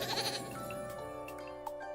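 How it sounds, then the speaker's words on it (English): A goat in a video game bleats repeatedly, near and clear, over a steady tonal music bed; no talk. "This bitch ass goat."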